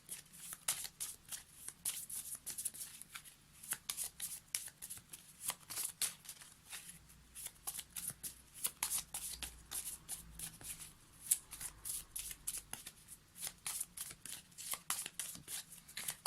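Oracle cards are shuffled for a reading in a quiet room, a long run of soft, rapid riffling and slapping bursts heard close up and alone.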